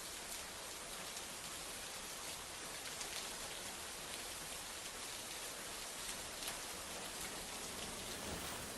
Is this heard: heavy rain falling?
yes